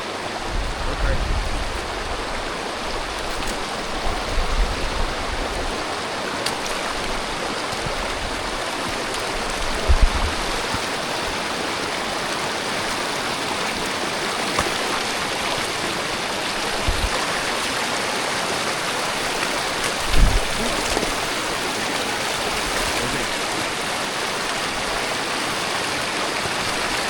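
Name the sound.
river stream flowing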